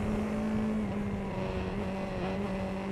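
A car climbs the Col de l'Espigoulier mountain road, its engine held at a steady loud drone that slowly rises as the throttle opens, a continuous close-up hum with no voices.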